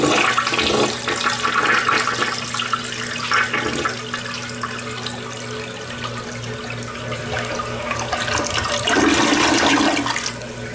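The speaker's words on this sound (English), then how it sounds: "it looks like it's about ready for flush" A toilet flushing in a cottage bathroom at a Chincoteague Island vacation rental: a loud, close rush of water that swirls and drains, then tank refilling hiss continuing to the end, with no talk.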